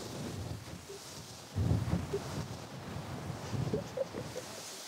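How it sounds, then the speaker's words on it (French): Strong wind blows outdoors in gusty, rumbling surges across the microphone, swelling louder midway and again near the end, with no voices heard. "Qu'est-ce qu'il y a comme vent chez vous?"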